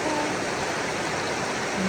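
River flowing in a Carpathian village, a dense steady rush of water heard close and fairly loud, continuous throughout, with faint voices in the background.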